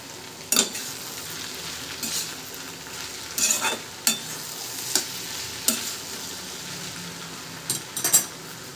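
A spoon stirs mixed vegetable bhaji in a pan, scraping and clinking against the metal in scattered strokes over a soft, steady sizzle of frying.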